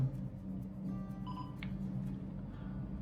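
A DJI Osmo Mobile 3 smartphone gimbal powering off after a long button press, giving a short faint series of electronic beeps and a brief tone over quiet room background.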